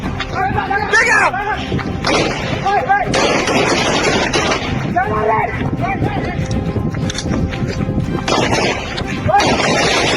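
Gunfire during an armed police arrest operation against an armed group, repeated loud sharp bursts over a dense, continuous noisy background, with shouted voices throughout.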